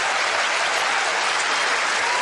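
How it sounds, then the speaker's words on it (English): A large tennis crowd at a 2006 US Open semifinal between Federer and Davydenko breaks into steady, loud applause after a player challenges a line call. The dense clapping continues without a break and drowns out any other sound. "It's nice to get a round of applause when you question a call."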